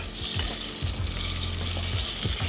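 Flour-dredged chicken pieces, salted and laid skin side down, fry in a pan with a steady, dense sizzle and crackle throughout, close and fairly loud, with soft bubbling bursts and no talking.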